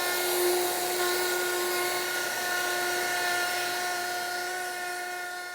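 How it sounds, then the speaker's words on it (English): A wood router cuts a pickup pocket in a Telecaster body with rosewood set neck, a loud, sustained high whine with steady tones that holds throughout and fades slightly at the end. "We're going to route it."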